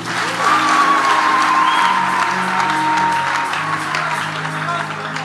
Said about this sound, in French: Acclame pour m'encourager.